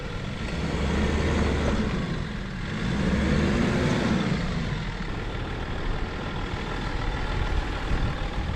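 Lifted Range Rover L322 on 35-inch tires driving through a sand quarry: a steady, close engine rumble with mild swells in revs and rough tire and wind noise, no speech.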